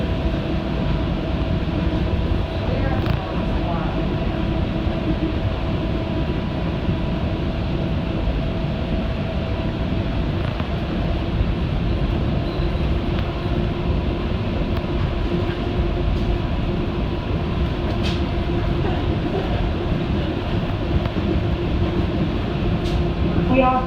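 An automated airport tram in Tampa runs steadily along its guideway, giving a continuous, fairly loud rumble and hum with faint rail clicks throughout.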